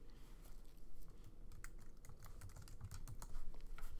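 A name is typed on a computer keyboard while filling in an electronic signature page, producing a close, quiet run of irregular key clicks and taps with no talking.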